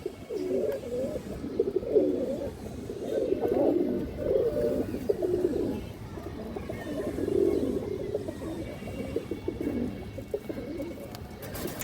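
Many pigeons of several breeds, including green-necked and pied types, coo in overlapping low, rolling calls throughout, steady and fairly close with no talking.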